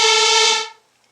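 A bright supersaw synth lead with only its first filter engaged plays a single sustained note for about half a second, then fades quickly into silence.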